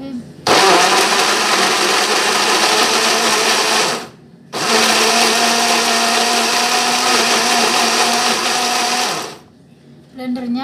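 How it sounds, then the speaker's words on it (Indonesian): An electric blender grinds chili for spicy ceker mercon, a loud close whirring roar running in two long bursts with a brief pause between, then stopping. "Kita blender."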